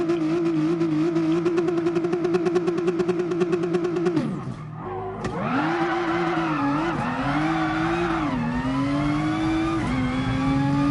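A Nissan GT-R NISMO GR3 race car in Gran Turismo Sport holds a loud, steady high rev, cuts out briefly, then accelerates through rising and dropping gear changes, close and clear with no talk.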